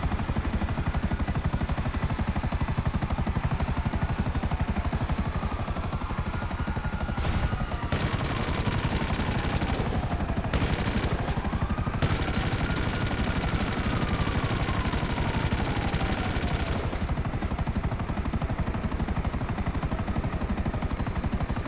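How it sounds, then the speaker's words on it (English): A damaged, smoking helicopter in a video game roars loudly and continuously, its dense rotor and engine drone mixed with gunfire-like rattling and falling whistling tones across about twenty seconds. "My smoking helicopter."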